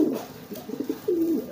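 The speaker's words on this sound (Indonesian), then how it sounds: "kalau merpati kalian sudah mulai bekur-bekur seperti ini nih" Pigeon cooing close by: a run of soft, throaty coos ending in a longer, drawn-out coo, with no other sounds around it.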